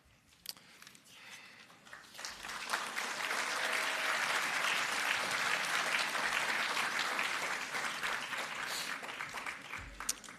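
Applause from an audience welcoming graduates at a convocation ceremony swells after a quiet start into full, steady clapping and carries on to the end.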